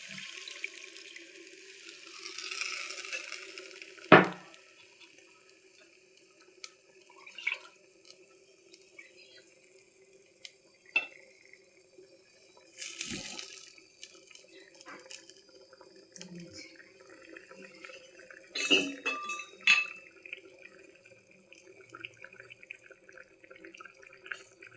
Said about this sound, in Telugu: ఇలా కొంచెం గ్రేవీకి తగ్గ వాటర్ పోసేసుకుని బాగా కొంచెం కలుపుకుందామండి